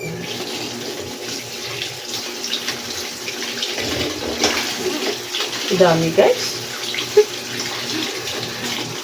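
Water running and draining from a container at home, a steady trickle and splash with a few louder gurgles, while people talk nearby.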